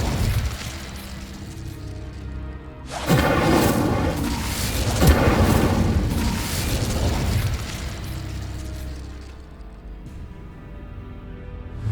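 Incendio fire spell cast in Hogwarts Legacy on PS5: a sudden loud fiery whoosh-burst erupts after a quieter opening, roaring with crackling flame for several seconds before fading into a lingering low rumble.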